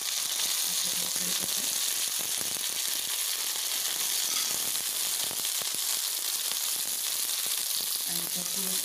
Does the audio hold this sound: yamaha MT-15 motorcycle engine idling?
no